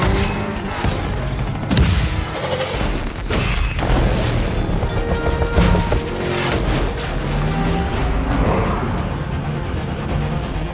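Movie gunfire exchange with a sniper firing from a helicopter at a car, dense loud booms and cracks over roaring vehicle and engine noise, a chaotic continuous action mix with no talk.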